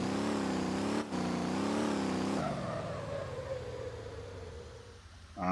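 Pickup truck engine straining while towing in Motor Town, with a steady loud droning rev that warbles for a couple of seconds, then drops to a lower, rougher labouring note before rising again at the end.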